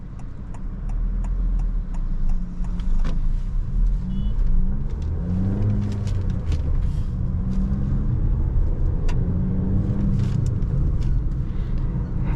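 A 2024 Honda Amaze facelift compact sedan with a four-cylinder engine being driven, giving a steady low engine rumble and road drone with faint ticking clicks, heard alone with no talking.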